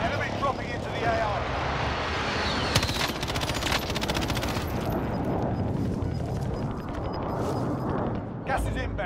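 Gunfire in the Call of Duty: Modern Warfare video game, with bursts of automatic fire and shots over a dense battle backdrop, a steady loud mix of combat noise and aircraft engine drone throughout, with voices calling out over it.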